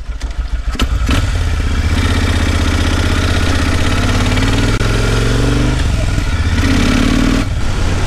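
A Kawasaki VN 15 motorcycle on its first ride: after a few clattering bursts, the engine settles into a loud, close, steady idling rumble that lasts to the end, with no talking.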